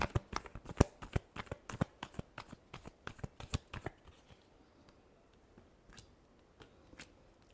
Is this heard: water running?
no